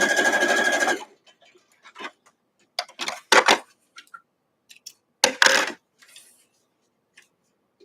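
A sewing machine stitches in a sustained buzzing run, then comes back in short bursts between pauses while a quilt block with weathervane seams is pieced, close and fairly loud.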